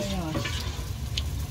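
Oil sizzles and crackles steadily as a shrimp crepe (bánh xèo) fries in a hot pan on a boat, close up, with faint voices and clinking in the background.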